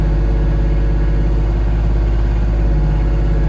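Kubota LX20 series compact tractor idling at raised throttle: a steady, loud, close engine drone with a strong low rumble and even hum throughout, with no talking.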